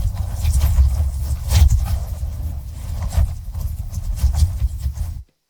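Designed sound for a liquid creature moving, with a heavy synthesized low end: a continuous deep rumbling, churning texture with shifting surges, loud and close, then cutting off abruptly.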